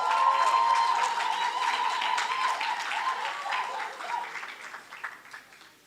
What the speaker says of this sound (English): Let's give them an encouraging round of applause.